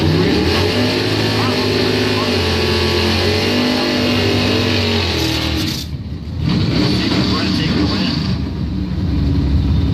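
Top doorslammer drag race cars, an S10 and a Mustang, roar loudly off the line and accelerate hard, engine harmonics climbing, with a brief dip near the middle before the din resumes under an announcer's commentary.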